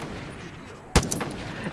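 A single sharp sniper rifle shot in Far Cry 5, one loud close crack followed by a short echoing tail and faint clatter over quiet game ambience.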